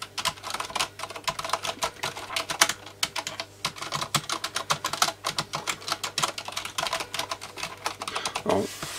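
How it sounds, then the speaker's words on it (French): Fast, irregular keystrokes on a Corsair Strafe Silent RGB mechanical keyboard, muted and close, with continuous clacking bursts and short pauses, heard alone. "je vais tout simplement taper avec le clavier pour vous montrer le niveau de silence"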